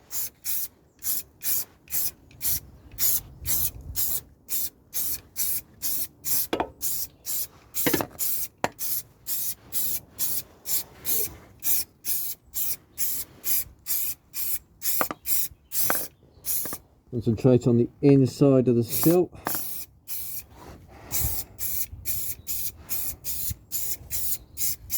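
Dynax aerosol sprayed into a car sill cavity in rapid repeated bursts, short hissing pulses in steady rhythm with a brief rattling stretch, close and loud, with a voice speaking briefly.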